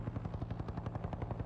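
A helicopter thuds with a rapid, steady rotor chop from a moderate distance, alone and without voices.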